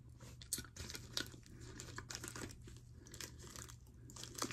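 A crunchy snack being chewed close up, soft crinkly crunches repeating in an irregular rhythm, faint and alone with no talk.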